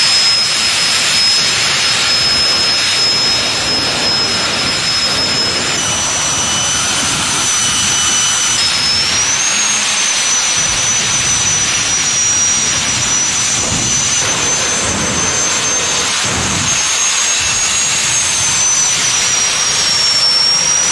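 A jet dragster engine with afterburner roars continuously at close range at a jet car championship, loud and unbroken, with a thin high whine running over the deep rumble.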